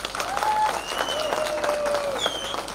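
A crowd applauds at a Sikkim political rally speech by the SDF party president, steady clapping throughout with faint whistle-like tones drifting over it.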